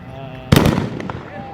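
A single sharp, loud burst from an AK-47 consumer firework, a close crackling bang that quickly decays, with a faint background tone.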